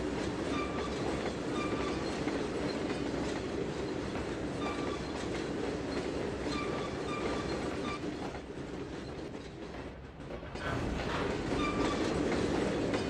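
A freight train with a Morton salt hopper car rolls past in the Trainz 2022 simulator, a steady loud rumble with rhythmic clickety-clack of wheels over rail joints that dips briefly before returning at full strength.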